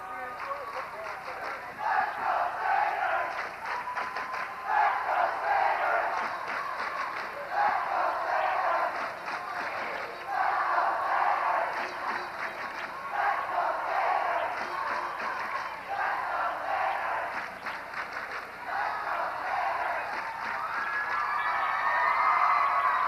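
A capacity crowd at a 1999 Holy Cross versus Sacred Heart college basketball game roars steadily, with dense cheering and shouting that swells and dips in waves throughout.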